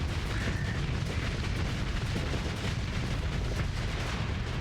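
Torpedoes slam into ship shields during a space battle in the video game Starsector, a dense, continuous barrage of deep booming impacts and rumbling blasts that fills the whole stretch without letup.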